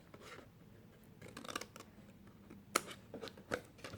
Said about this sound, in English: on this 1/2 inch tab I'm going to cut at an angle